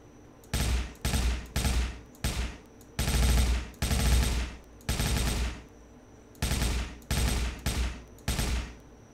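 Video game gunfire rattles out in about a dozen short automatic bursts, each roughly half a second, loud and close with brief gaps between them and no talking.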